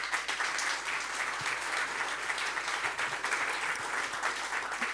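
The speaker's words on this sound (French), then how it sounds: "On peut les applaudir tous les 3." A conference audience in Avignon claps together, a fairly faint but steady wash of many hands heard from a distance, continuing evenly for about five seconds without any speech.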